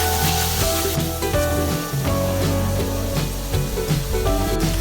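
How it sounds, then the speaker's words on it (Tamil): Tomatoes and green chillies stirred in a frying pan while cooking shark thokku, a continuous rubbing, sizzling scrape with utensil strokes and faint tonal ringing, loud and close. "அதுக்கப்புறமா தக்காளி போட்டு நல்லா மிக்ஸ் பண்ணி விட்டுக்கோங்க."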